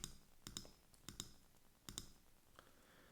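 Several sharp computer mouse clicks, about four or five, come singly and in quick pairs at close range, with quiet room noise between them and no voices.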